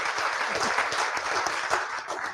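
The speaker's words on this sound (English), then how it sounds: "So if I might ask everyone just to say yay or clap or something" An audience at a school board meeting claps together in sustained, dense applause for an accreditation announcement, steady and fairly loud throughout before tapering at the end.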